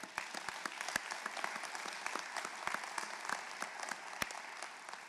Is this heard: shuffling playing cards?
no